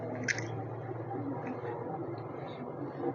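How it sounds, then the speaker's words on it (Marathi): Prawns drop into a simmering black-masala curry, making a soft, wet squish and faint bubbling close by, with a voice murmuring quietly underneath. "आता मी ह्या कोणब्याच टाकते बघा"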